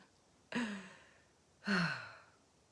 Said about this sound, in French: Déjà j'expire.